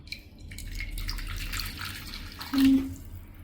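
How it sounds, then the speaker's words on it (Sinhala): Hot water poured into a clay pot set on a hearth for a Southern Sri Lankan fish curry, a short close splash and trickle rising near the end, over low background hum. "මම මුලින්ම මේකට රත් කරගත්ත මේ උණු වතුර ටිකක් එකතු කරනවා"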